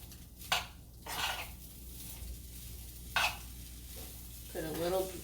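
Shrimp fried rice sizzles in a hot pan while a utensil stirs and scrapes through it, with a few sharp scrapes standing out over the steady frying hiss.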